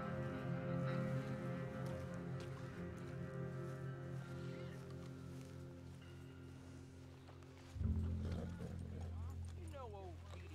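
A horse's hooves clip-clop at an unhurried walk in Red Dead Redemption 2 beneath a steady droning hum, with voices in the background and a louder thump near the end.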